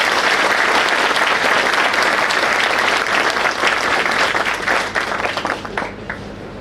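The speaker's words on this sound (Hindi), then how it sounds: "जोरदार तालियों से इन सबका स्वागत करें" Loud, sustained applause from a large audience at a Hindi-speaking gathering, dense steady clapping that holds strong for several seconds before thinning out and fading near the end.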